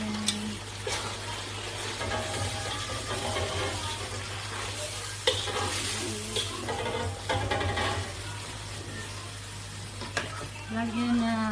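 Corned beef frying in a pan with cabbage being added, a steady sizzle and stirring scrapes running throughout, with a constant low hum and brief water-like sounds near the end.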